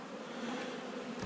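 A honeybee swarm at a hive gives a steady, dense buzz that fills the space close up, unbroken and with no talk over it.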